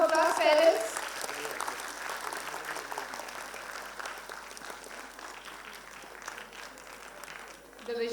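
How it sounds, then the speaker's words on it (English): Parents in the audience at a school annual day give a broad round of applause. After a brief voice at the start, moderately quiet, even clapping continues throughout. "We may have a huge round of applause, parents."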